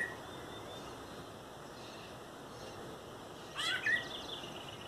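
Soft high calls of a rufous-bellied thrush (sabiá) in the distance in a backyard over a quiet hiss, then a short, louder burst of chirping near the end.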